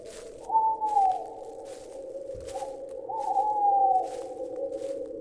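An owl hoots at night in a graveyard, two drawn-out, wavering hoots of moderate loudness separated by a short pause, set against a steady low background hum.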